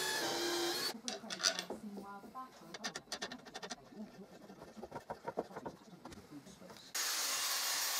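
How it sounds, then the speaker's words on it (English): A drill bores a hole all the way through a part while a mobile camera stand is built from concrete and reclaimed materials. It comes as loud, uneven grinding bursts and clatter that run for several seconds, close by. "I'll need to drill this hole all the way through."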